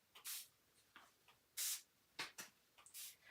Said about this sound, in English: So I have like a little spray bottle